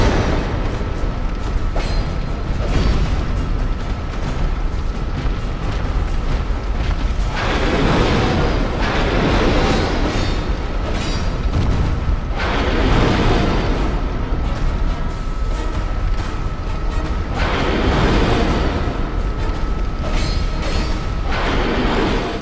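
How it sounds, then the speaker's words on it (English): Dark Souls 2 boss unleashing a fire blast explosion: sustained loud roaring bursts swell and crash repeatedly in waves over a rumbling, hissing background. "I keep forgetting he does that fucking fire blow off at the end"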